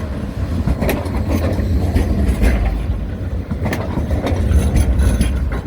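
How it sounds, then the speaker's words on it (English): A Blackpool tram rolls past on the seafront in February, a steady loud mechanical rumble with clanking, ratcheting wheel and gear noise over a low drone throughout. "Oh, here comes the tram."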